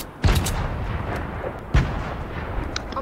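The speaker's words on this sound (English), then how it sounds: "Throwing grenades?" Grenades explode in a video game: two loud, booming blasts about a second and a half apart, each followed by a rumbling tail over constant background noise.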